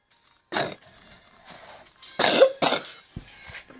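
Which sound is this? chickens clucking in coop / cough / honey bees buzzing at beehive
cough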